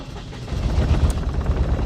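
A big turbo diesel 4x4 camper's engine runs with a steady, loud low rumble and a slightly uneven chug, without voices.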